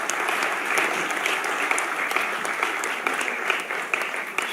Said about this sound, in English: A big round of congratulations and applause for all of them.